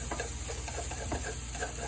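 Olive oil sizzling in a pan while ingredients are stirred and sautéed until brown for peperoncino pasta, a steady close frying hiss with light scraping and tapping from the utensil.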